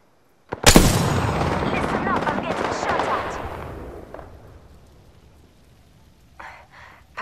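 A loud, close burst of video game gunfire erupts after a short silence, with a sharp initial crack into a dense rattling barrage that slowly decays over several seconds, then a couple of fainter shots near the end.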